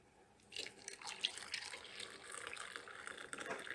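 Hot water trickles and splashes into a cup, a soft, quiet liquid pour continuing steadily after it starts.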